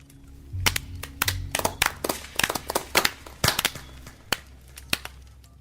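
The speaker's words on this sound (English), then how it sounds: "clap your hands" Scattered hand claps from a small audience at a storytelling performance, sharp separate smacks that come unevenly over several seconds and thin out toward the end. No one speaks.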